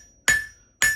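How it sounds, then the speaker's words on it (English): A blacksmith's hammer striking flat steel stock on an anvil to spread it into a small leaf: two sharp ringing blows about half a second apart, each with a bright metallic ring that decays quickly, close and clear. "rolling the hammer over, and spreading it, and staying in the center, not on the edges"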